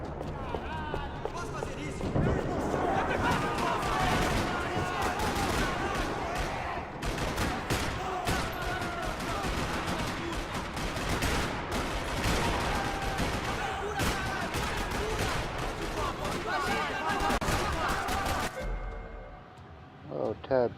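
Rapid bursts of gunfire in Max Payne 3 crackle continuously with dense, loud shots that cut off abruptly near the end, leaving brief quiet.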